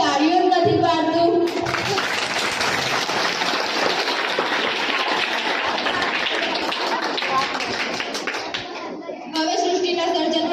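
Schoolchildren at a primary school music program clap in a dense, continuous patter of many small hands, near and steady, with children's voices and chatter mixed in throughout.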